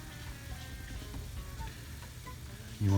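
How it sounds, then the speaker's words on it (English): Poaching liquid for flounder starting to simmer in a pan gives off a soft, steady low bubbling and faint crackle, quiet and continuous with no voices. "So we're gonna bring this to a simmer, which it's starting to do."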